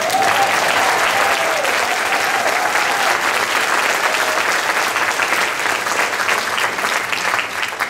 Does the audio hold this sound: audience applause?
yes